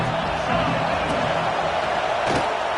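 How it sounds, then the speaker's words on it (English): A stadium crowd roars loud and constant at Saban Field on third down in a college football video game, a dense unbroken wall of noise with a faint commentary voice beneath. "The high crowd roaring noise down on the Saban field on 3rd down."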